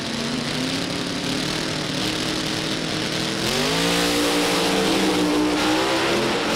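Two drag racing cars at Norwalk hold steady, loud engine revs at the start line, pitch climbing and settling as RPMs build before launch, with no talk over the continuous roar.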